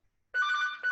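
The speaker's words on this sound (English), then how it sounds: "That's my phone." A phone rings at home, sounding a bright electronic ringtone that starts abruptly after a moment of silence, holds steady and loud, then pulses again after a brief dip.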